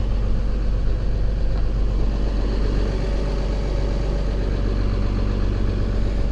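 A 2015 International 4300 Durastar truck with a Cummins 6.7L ISB diesel idles at a raised speed, a steady, even low rumble that stays constant throughout with no talking.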